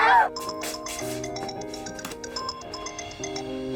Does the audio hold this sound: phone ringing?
yes